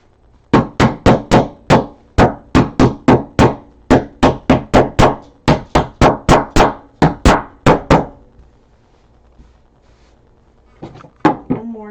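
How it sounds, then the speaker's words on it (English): A hammer strikes staples down into fabric on an ironing board, a long run of loud, close, evenly spaced knocks that pauses briefly before a few final blows. "now I'm going to hammer some of these down."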